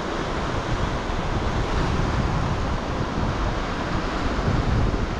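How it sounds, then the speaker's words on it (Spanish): Ocean waves surging against a sea cliff make a steady, loud wash of broadband roar and hiss, with wind buffeting the microphone and no voices. "Ya está, una olita."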